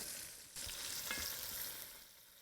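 A beef chuck roast sears in a hot pan, giving a steady close sizzle and frying hiss with a brief shift as the meat is moved, no voices.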